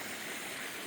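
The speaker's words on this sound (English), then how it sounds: "they let water come over the top, and you can see some sediment in that water" Water pours steadily over a check dam in a watershed stream, a continuous broadband rushing wash heard at moderate distance with no voices.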